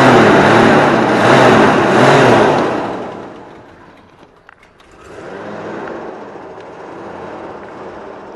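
A 1988 Jeep Grand Wagoneer engine warming up, a loud broadband rumble for about three seconds that dips, then settles into a quieter steady running drone.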